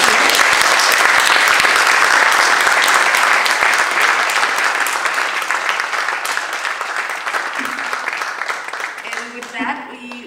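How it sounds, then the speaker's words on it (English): Audience applause for panelists at a United Nations side event, loud sustained clapping from a full room that gradually thins and fades, with a voice starting to speak near the end. "maybe you join me in thanking our panelists and giving them a good applause"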